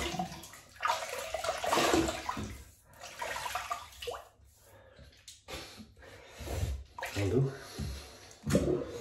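A shaving razor is rinsed under running water at a sink, bursts of splashing and flowing water coming and going, close by, with some breathing and faint sounds between the splashes.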